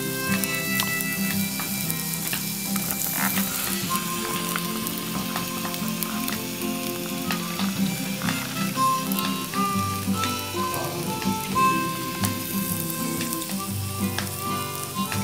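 Mediterranean burgers sizzling steadily on a Jimbo Jitsu Rock Stove, a continuous crackling fry with scattered pops and faint clinks, no voices.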